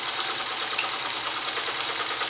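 A Sterling 100 Deluxe class 15 sewing machine stitching in reverse, giving a steady, smooth mechanical whir with a fast even rhythm, close and fairly loud, running alone without talk.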